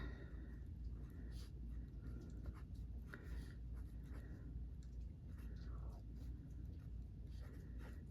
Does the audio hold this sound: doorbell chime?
no